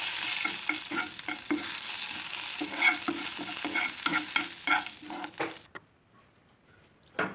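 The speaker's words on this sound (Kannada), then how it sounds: "ಹಾಗೆ ಒಂದು 4 ಕರಿಬೇವು ಮತ್ತು ಸಾಸಿವೆನ ಒಂದೇ ಸತಿ ಒಗ್ಗರಣೆ ಕೊಡ್ತಾ ಇದ್ದೀನಿ" Mustard seeds and a few curry leaves crackling and sizzling in hot oil for a tempering, with rapid popping spatters and stirring over several seconds before the sizzle suddenly cuts to near quiet.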